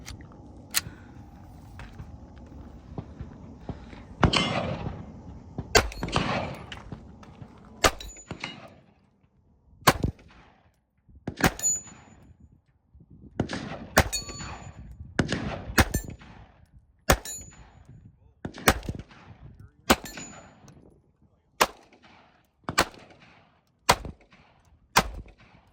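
A Glock 26 pistol fitted with a stabilizer fires repeatedly at an open-field range, sharp cracks coming singly and in quick pairs at irregular intervals over about twenty-five seconds, each with a brief ringing tail.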